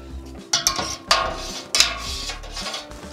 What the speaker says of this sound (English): I'm gonna give this a stir